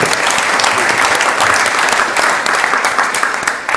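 An audience at a talk applauds in a loud, continuous burst of close, dense clapping that carries through the whole stretch with no speech.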